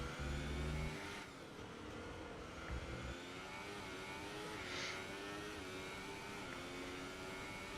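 A racing car engine on a lap of the Russian Grand Prix in a racing video game, a steady droning whine held loud and close throughout, with pitch shifts as it changes gear.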